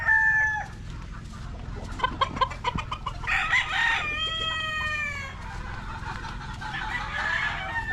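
Chickens in a barn, a rooster crowing and hens clucking over chicks, with several crows and cackles up close over a steady background of farmyard bird noise.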